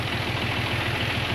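A diesel engine driving a water well PTO, running steadily with a low, even throbbing drone and faint clatter, continuous and close.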